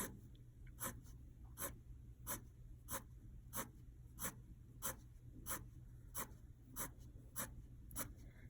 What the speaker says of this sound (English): I'm going to turn my paper this way so I can draw my lines toward me